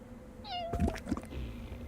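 A cat meows once in the video game Little Inferno, a short rising then falling cry heard clearly and close.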